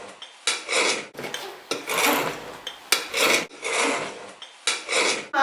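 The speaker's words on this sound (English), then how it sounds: "The main thing is that you use rye bread. So what I'm going to do is cut off the crusts." A knife saws the crusts off rye bread in about five rasping back-and-forth strokes, close and distinct with brief pauses between, and no one speaking.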